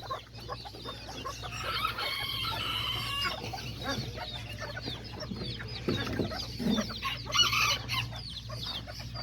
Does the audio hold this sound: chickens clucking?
yes